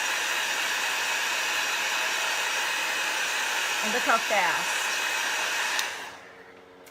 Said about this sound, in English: A hair dryer works just as well if you have a hair dryer.